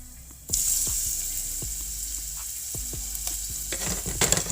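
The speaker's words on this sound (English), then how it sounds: "Now I'll be adding in the half an onion." Half an onion for an eggplant side dish drops into hot oil and starts sizzling loudly, a sudden burst that settles into a steady fry with clattering stirring knocks and no voice.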